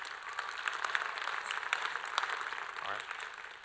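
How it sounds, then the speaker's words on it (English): Applause from a school fall concert audience for a middle and high school band after a tune, a steady wash of clapping at moderate distance, fading slightly toward the end. "Give them another round of applause."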